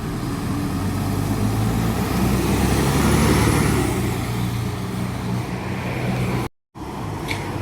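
A Cirencester bus pulls away with a steady low diesel engine rumble, loud and close, swelling midway and briefly cutting out near the end before resuming.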